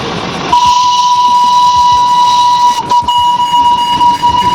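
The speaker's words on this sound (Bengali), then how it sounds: "সুন্দর টয় ট্রেনটি যাচ্ছে" The Darjeeling toy train's steam whistle blows loud and sustained as it passes near Ghum Monastery, a steady piercing tone over hissing steam and rumbling rail noise, very close.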